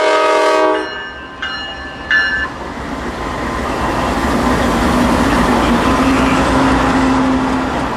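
Norfolk Southern freight train 40N06 passing near Blair Yard in Ohio, with loud horn blasts at the start followed by a steady close roar of rolling railcars.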